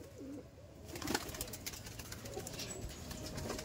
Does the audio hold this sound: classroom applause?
no